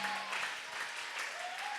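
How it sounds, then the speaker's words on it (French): A church congregation applauds loudly and steadily, a dense wash of clapping with some cheering voices mixed in, filling the room throughout. "Acclamez maintenant très fortement pour les rois."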